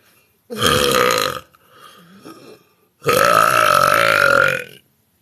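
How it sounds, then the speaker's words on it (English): A person burps into a tube, producing two long, loud, resonant belches separated by a short quieter pause, with no talking. "I guess it's similar to burping in the tube"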